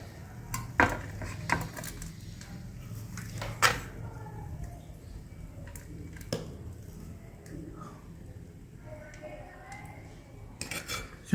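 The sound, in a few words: spoon serving crumbled chapati kuskara onto a plate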